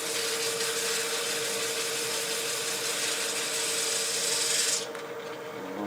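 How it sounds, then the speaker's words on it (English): Abrasive paper rubs against a spinning wooden disc pendant on a lathe, a steady hissing rasp over the motor's hum, until the sanding lifts off near the end and only the lathe keeps running. "I think I'm going to go ahead and sand that now."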